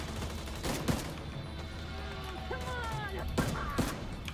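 Gunfire from a weapon in the video game The Division 2 comes as sharp cracks in a few bursts. Constant in-game background noise and a faint voice run underneath.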